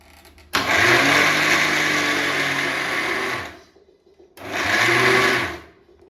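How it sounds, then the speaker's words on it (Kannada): A mixer grinder grinding curry leaves into powder whirs loudly in two bursts, a long run of about three seconds followed by a shorter one, with brief quiet between. "ಮಿಕ್ಸಿ ಮಾಡ್ತಾ ಇದ್ದೀನಿ"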